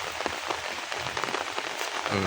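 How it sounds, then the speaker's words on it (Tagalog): Steady rain patters and hisses on a surface near pigeon housing, dense and constant, with a few louder drops standing out. "Medyo maulan lang talaga ngayon."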